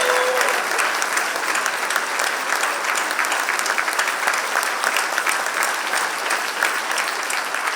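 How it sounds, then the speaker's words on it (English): Steady, dense applause from an award ceremony audience as the 2025 Young Naturalist Award at the Sanctuary Wildlife Awards is announced, sustained at an even level throughout with no speech over it. "please give the biggest round of applause"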